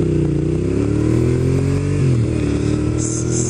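A motorcycle engine drones loud and close while riding, its pitch wavering and rising and falling as the throttle shifts, with a brief change in tone partway through.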